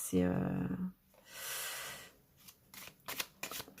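Old-style paper playing cards are riffled and shuffled in quick bursts of crisp flapping, close to the microphone, after a short voice at the start.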